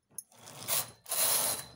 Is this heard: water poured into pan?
no